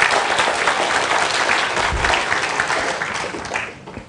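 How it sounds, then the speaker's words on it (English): An audience at a book launch claps loudly and steadily from close by, then the applause gradually fades out near the end. "So round of applause for the research assistants."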